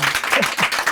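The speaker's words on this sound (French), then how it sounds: "Est-ce que je peux voir ce que ça donne les applaudissements" Theatre audience at a mentalist show claps in a short burst of dense, close applause.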